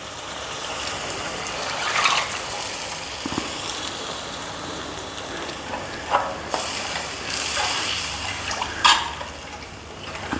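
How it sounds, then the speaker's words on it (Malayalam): Tamarind water poured into a Kerala-style fish curry, a steady watery pour and bubbling sizzle with a few sharper splashes and clinks along the way. "ഇനി നമുക്ക് പുളിവെള്ളം ഒഴിച്ചു കൊടുക്കാം."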